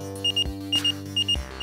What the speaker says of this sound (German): Das war doch der Alarm.